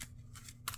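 Marvel Champions cards are shuffled and dealt at a tabletop, giving a few faint, quick papery snaps and rustles over less than a second, quiet and close.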